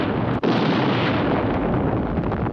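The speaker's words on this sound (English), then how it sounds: "Counting down to another big explosion." A huge, sustained explosion roars as an asteroid is destroyed in the Space:1999 episode Collision Course, a dense, loud blast that rumbles on steadily for over two seconds after a brief initial dip.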